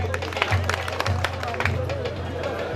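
An audience claps at a Baul music gathering, a busy patter of hands close by with steady low background murmur and some chatter mixed in.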